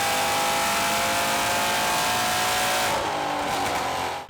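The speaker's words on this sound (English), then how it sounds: "This is the supercharged E63 that Craig owns that we had on the dyno when I was out here last time" A supercharged Mercedes E63 AMG with about 700 wheel horsepower drives by with a loud, sustained engine roar that holds steady, then eases and fades near the end.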